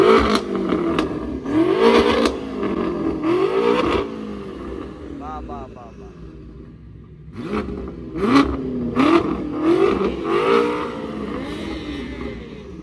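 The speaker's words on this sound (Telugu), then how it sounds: "ఇది M6 tuned car. Exhaust note అయితే ఇందాం ఇప్పుడు." A blue tuned BMW M6 revs its exhaust hard in repeated loud bursts, with pauses between, at a supercar event in Hyderabad; people talk over and between the revs.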